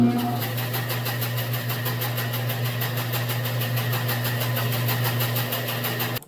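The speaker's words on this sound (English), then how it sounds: "Let's test it out on the bandsaw." A bandsaw cuts a curved radius into a wooden shelf piece, giving a steady, loud motor hum with a constant buzzing drone that runs unbroken from start to finish.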